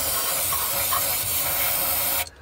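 A continuous hissing spray of cleaner onto a Ford Focus throttle body runs steadily for a couple of seconds, close and fairly loud, then stops suddenly.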